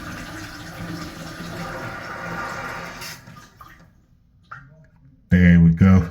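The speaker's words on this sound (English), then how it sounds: "So if I just flush that again, get rid of all the water in there" A toilet flushes with a rushing gurgle of draining water that fades to quiet, followed by a brief loud voice at the end.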